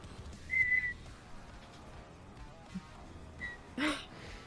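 A voice imitates faint, far-off whistling with a few short, quiet whistled notes amid low background noise.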